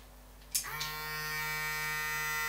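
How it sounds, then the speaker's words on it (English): A Braun Series 3 340 electric shaver switches on after a brief click and its motor settles into a steady, close, continuous buzzing hum that runs without a break. "watching a shaver motor go around"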